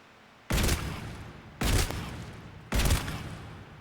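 Three heavy, booming shotgun blasts from the Mass Effect 3 video game, each loud and sudden with a decaying tail, evenly spaced about a second apart, with no talk over them.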